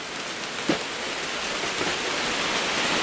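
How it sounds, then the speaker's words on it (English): Heavy rain pours down steadily in a dense, even hiss, with a brief thump near the start and no voices. "Oh, it's really raining now."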